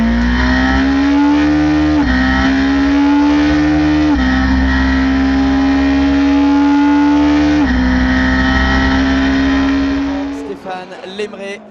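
A Ferrari 458 GT race car on the Le Mans circuit holds a loud, close, sustained engine roar, climbing through several gear changes in steady rising steps before the note cuts off and fades near the end.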